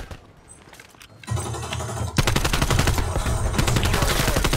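Automatic gunfire in the video game Black Ops Cold War builds from quieter shots into sustained, loud rapid-fire bursts that continue without pause to the end.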